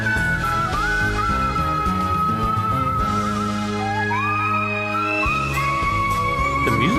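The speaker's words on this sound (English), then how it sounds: "I will always love this sound so much. The whistles, the vibe, everything." Melodic whistle lead carries a tune in Disgaea 3 video game music, gliding sustained notes over a steady bass and accompaniment, loud and continuous with no talk.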